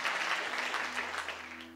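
An audience at a hypnosis show in Hamburg claps steadily, a dense, even patter of many hands throughout with a faint low hum underneath.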